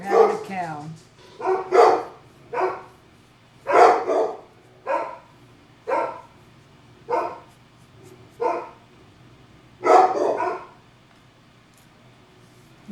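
Dogs bark indoors in loud, close bursts, about a dozen sharp barks and yips in an irregular rhythm separated by short quiet gaps.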